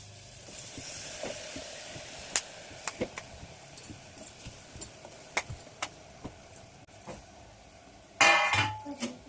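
A sautéed masala mixture sizzling in a pan before rice is added, a soft steady hiss broken by frequent light clinks and taps of a spoon, with a louder burst of sizzling and scraping at the end.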